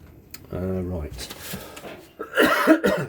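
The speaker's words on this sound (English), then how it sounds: "I got this really annoying cough left over from my cold" A man with a lingering cough from a cold coughs and clears his throat a few times at close range, a harsh burst and then a rougher fit, with short pauses between.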